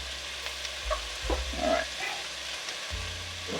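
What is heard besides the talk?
onion frying in olive oil in a pan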